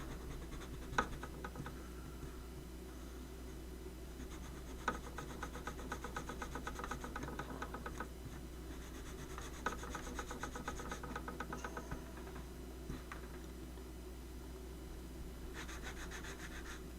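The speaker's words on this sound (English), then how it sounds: "sand the bottom side of this. Sand on these tabs" A piece of a 3D London tour bus puzzle has its tabs sanded by hand, giving soft, steady scratching and rubbing strokes at close range, with a few sharper scrapes along the way.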